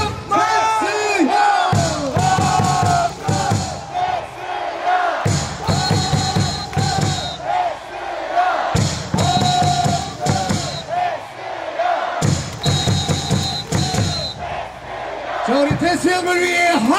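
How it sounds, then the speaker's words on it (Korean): Baseball crowd at a Korean ballpark in Gwangju shouting and cheering in loud, rhythmic chanted bursts, with brief lulls between waves, a dense roar close and sustained throughout. "태수형을 위해 함성 발사!"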